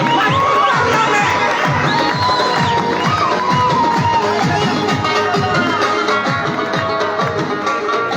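Dense crowd at a stage event in Urdu-speaking Pakistan, loud continuous cheering, whooping and clapping that fills the whole stretch at close range, with shouted voices mixed into the roar.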